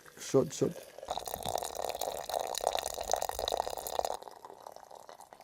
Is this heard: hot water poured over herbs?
yes